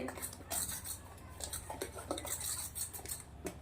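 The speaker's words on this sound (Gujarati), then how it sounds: "આને હું પાંચ મિનિટ સુધી આવી રીતે ફેંટવાની છું" A utensil whisks gram flour and sweetcorn batter in a bowl, tapping and scraping in quick, uneven strokes close up, with no talking.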